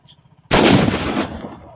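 A Diwali firecracker explodes with a single loud, sharp bang followed by a brief rumbling decay, set against a quiet night.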